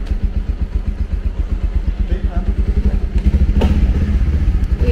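A motorcycle engine runs close by, loud and steady, with a rapid, even throbbing pulse and some mechanical clatter that grows slightly louder toward the end.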